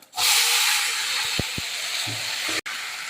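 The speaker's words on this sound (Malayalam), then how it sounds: "ഇനി നമുക്ക് വെന്ത് വെച്ചിരിക്കുന്ന ബീഫ് ഇതിലേക്ക് ചേർത്ത് കൊടുക്കാം." Cooked beef dropped into a hot pan for a beef fry, giving a loud, continuous sizzle that starts abruptly and holds steady, close by, with a few faint clinks of a utensil.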